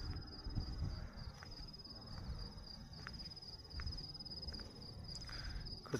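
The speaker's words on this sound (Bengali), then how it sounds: "ঝিঝি পোকা ডাকে, ওই রকম ডাকতেছে" Crickets trill steadily with a thin high continuous chirping in a park, fairly faint, over low outdoor background noise and occasional soft patter.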